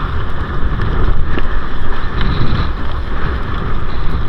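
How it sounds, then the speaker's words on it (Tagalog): Strong northeast monsoon wind buffets loudly against the microphone while waves slosh and churn, a continuous rough roar out on open water during lobster fishing. "Lakas ng alon. Hangin."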